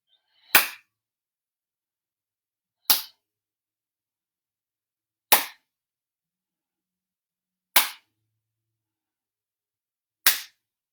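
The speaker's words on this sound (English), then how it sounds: "On the exhale, we'll clap the hands as we invoke Vayu, the winds or prana." Five single sharp hand claps during a yoga exercise, spaced evenly about two and a half seconds apart, each crisp and close against silence.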